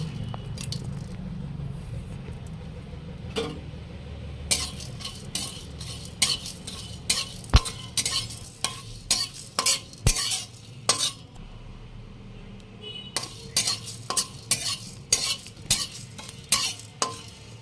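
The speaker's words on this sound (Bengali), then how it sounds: "গোটা ধনে গোটা জিরে গোটা গরম মশলা আর একটু তেজপাতা এটা একটু হালকা করে ভেজে গুঁড়া করে নেব" Whole coriander, cumin, garam masala and bay leaf dry-roast in a pan, with a soft steady crackle under irregular bursts of metallic scraping and clinking as a spoon stirs the spices.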